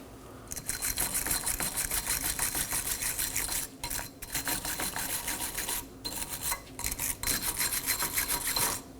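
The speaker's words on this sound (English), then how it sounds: "I'm going to use a wire brush around the hub." A wire brush scrubs the metal wheel hub of a Nissan Maxima in rapid, raspy back-and-forth strokes, with a few brief pauses between bursts.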